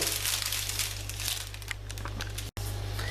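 Baking parchment paper is crumpled and crinkled by hand while lining a tart dish for a fruit tart, a close, steady rustling that runs throughout with one brief break near the end.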